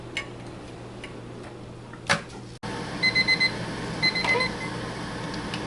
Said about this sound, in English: So the timer's done, now we can turn our centrifuge off.